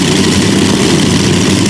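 A pulling tractor at the 1996 European Tractor Pulling Championships, its heavy engine roaring loud and constant with a deep, rough low end throughout, no voices.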